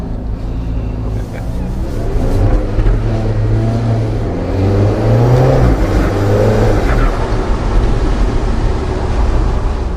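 An Alfa Romeo 4C Spider pulling away in first gear, its engine note climbing and surging close by in a loud rising pull, with a brief voice audible at the start.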